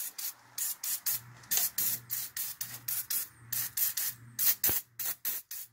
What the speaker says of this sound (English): We're going to spray it real good.